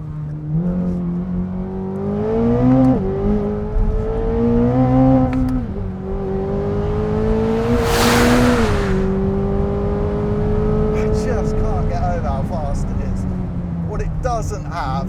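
A sports car, a Corvette ZR1 or Ford Mustang GTD, accelerating hard in second gear, the engine note climbing steadily through a long pull, loud and close from inside the cabin.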